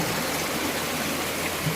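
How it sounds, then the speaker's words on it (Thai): Spring water flowing out from among rocks on a mountainside, a soft, steady trickling and burbling that stays faint and continuous over the brief moment. "อยู่บริเวณนี้ จะมีน้ำไหล"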